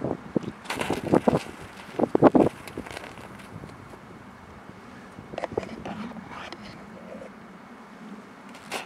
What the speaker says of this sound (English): as soon as this wind dies down.